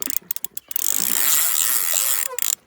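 A fishing reel's drag clicks in a fast ratcheting burst as a rod on the bank bends under a pulling fish, loud and close, after a few scattered clicks.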